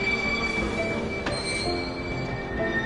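Train wheels in the video game Kingdom Hearts 2 squeal steadily with a continuous metallic whine over a loud rumbling roll of railcars, unbroken by voices.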